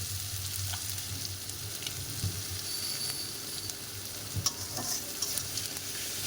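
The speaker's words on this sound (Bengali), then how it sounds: "মশলাটা কষিয়ে নেব।" Spice paste stir-fried in a pan, a soft, steady sizzle with a few light scrapes and taps from the spoon, fairly quiet and close, with no voices.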